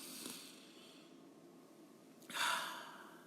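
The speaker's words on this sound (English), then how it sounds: "and we breathe" A single deep breath drawn in and let out, a soft airy inhale followed by a louder, fuller exhale close to the microphone, with no talking.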